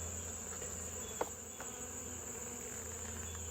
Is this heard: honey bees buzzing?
yes